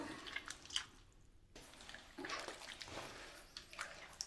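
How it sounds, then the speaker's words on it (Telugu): Soaked tamarind squeezed by hand in a bowl to draw out its juice, giving faint, close wet squishes and drips in a quiet room. "చింతపండు నానబెట్టి పెట్టాం కదా దీన్ని ఇప్పుడు మొత్తం పిసికి చింతపండు జ్యూస్ తీసుకుందాం"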